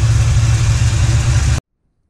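A 1999–2002 truck engine with an intake swap idles with a steady, low rumble, close and loud, then cuts off abruptly into silence.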